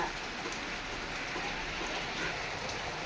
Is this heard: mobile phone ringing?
no